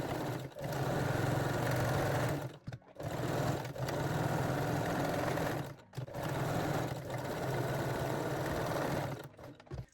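Sewing machine running a small zigzag stitch forward and backward on lingerie fabric, three sustained whirring bursts separated by brief pauses, close and steady, with no talk.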